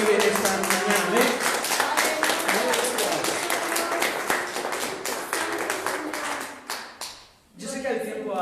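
Church congregation clapping hands in steady rhythmic time during a Spanish-language worship service, loud and continuous with voices singing and calling out over it, fading briefly near the end.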